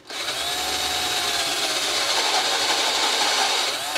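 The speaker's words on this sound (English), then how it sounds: "Here's the drilling, and I started drilling the larger holes." A power drill whines steadily as it bores larger holes into wood for a model boat, a continuous close grinding and rasping with no voices.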